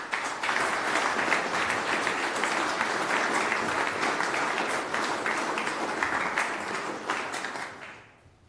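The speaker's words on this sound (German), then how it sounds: "begrüßen Sie mit einem großen Applaus den Festredner des heutigen Abends" Audience applause welcomes the keynote speaker at a lecture event in Burgenland, a dense, sustained clapping from a large crowd that holds steady for several seconds before fading out at the end.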